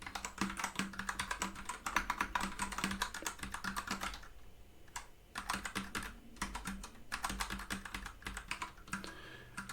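Steady typing on a computer keyboard while working through a simple C project, rapid clustered keystrokes close by with a brief pause midway, no talking.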